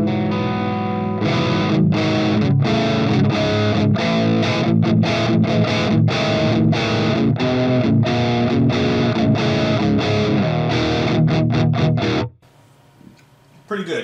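Heavy metal electric guitar through an Axe FX III using a 4x12 Brit TV 906 cab model, loud tight palm-muted chugs and chords played close and alone, cutting off abruptly near the end.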